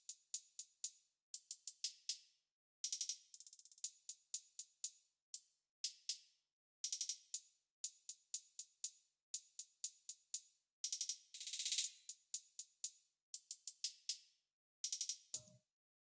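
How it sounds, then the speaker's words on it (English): Crisp hi-hat pattern from a slow trap beat, ticking alone in tight repeated groups with quick rolls and faster bursts, loud and dry with nothing else playing. "So the hi-hats are this pattern."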